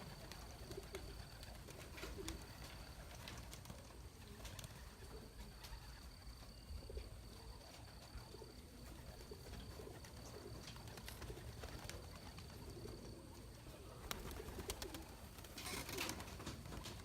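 Pigeons at a loft coo softly and distantly, faint intermittent calls over a quiet outdoor background with no talking.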